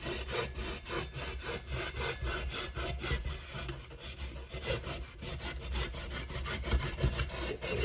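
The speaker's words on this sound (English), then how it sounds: "I'm using a hacksaw." A hand hacksaw cuts through pieces of an electric kiln being converted to propane, in steady rhythmic back-and-forth strokes that rasp close and continuously, with no talking.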